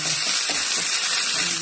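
Steady, loud frying hiss from a pan of onions and ginger-garlic, with faint scraping of stirring running through it; no voices.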